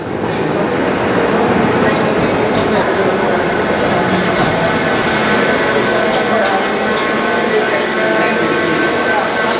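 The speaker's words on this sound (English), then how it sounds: "you can hear the roar of the tram" A loud, continuous rumbling roar of a Budapest M1 metro train fills the space, with clattering and metallic tones, and voices talk faintly underneath.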